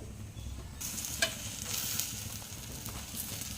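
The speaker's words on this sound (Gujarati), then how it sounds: "આ રીતના દબાવી દબાવીને આપણે બધેથી શેકી લઉં છું" A stuffed cheese and potato paratha fries in oil on a hot griddle, giving a steady, close sizzle with soft scraping and pressing sounds and no voices.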